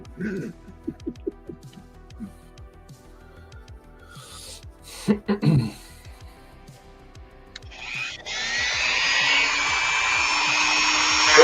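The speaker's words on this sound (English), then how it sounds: "Turn my Dremel on" A Dremel rotary tool, used for customizing action figures, starts up after someone talks and then runs as a steady high-pitched whine, close and loud, through the last few seconds.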